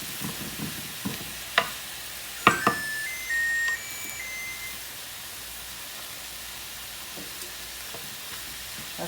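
An oven that has finished preheating to 350 gives a short series of clear electronic beeps, under quiet kitchen background noise and a few soft clinks of stirring.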